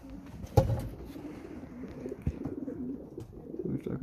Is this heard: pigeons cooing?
yes